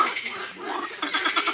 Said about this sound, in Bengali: কিন্তু এটা হচ্ছে ব্যাঙের লড়াই